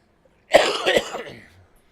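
A person with sciatica gives a single harsh, close cough, a short burst that breaks into a couple of rough chesty pulses and then fades out.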